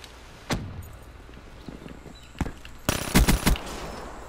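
Gunfire in Call of Duty: Black Ops III sounds as a few sharp single shots, followed by a tight burst of rapid automatic fire near the end, loud and close against quiet game ambience.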